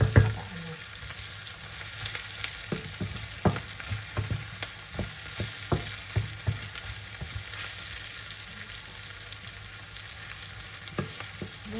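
Garlic frying in a pan for ginataang langka, a steady broadband sizzle with a run of sharp spatula scrapes and taps against the pan, close and fairly quiet, with no talk.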